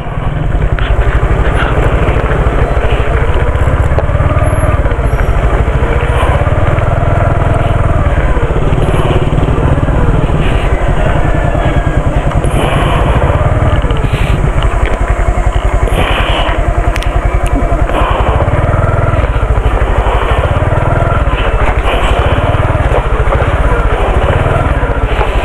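A parked motorcycle's engine runs steadily and loud throughout, with a rough, clattering low rumble that never stops. The setting is Natividad, Pangasinan.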